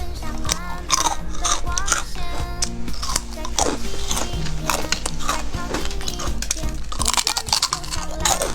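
Crispy fried chicken skin snack, made without additives or starch coating, crunches loudly in close, rapid bites and chews, with a voice talking over it.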